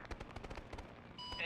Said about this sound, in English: Sounds like a heavy emplaced weapon opening fire